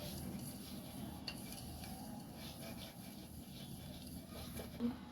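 A spoon works flour and crushed biscuits together in a bowl for a biscuit cake, giving a soft, continuous scraping and rustling that stays faint and close, with a small clink near the end.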